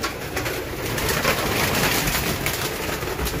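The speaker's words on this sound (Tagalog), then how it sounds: "Ayan, may mga ayaw pumasok na mga ibon." Racing pigeons at their loft, cooing and fluttering close by in a steady dense wash of bird sound with continuous background noise.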